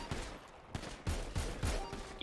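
Video game gunfire in GTA roleplay, a quick series of four or five punchy shots fired from a rooftop, fairly close and evenly spaced over a steady game background, with no voices.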